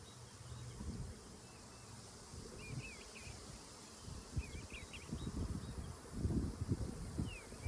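Bees from a swarm buzz around a hive during a Demaree split, a steady low hum with scattered insect whines over the top, growing denser and louder toward the end with no voices.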